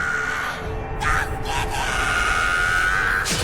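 A loud, strained scream in an anime scene, sustained and harsh across the whole moment, with short breaks and another cry rising near the end.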